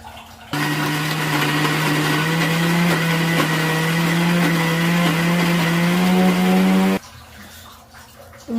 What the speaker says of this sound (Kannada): ಒಂದು ಮಿಕ್ಸಿಗೆ ಹಾಕಬೇಕು. ಅದು ಸಣ್ಣ ಆಗೋ ತನಕ ರುಬ್ಬಬೇಕು.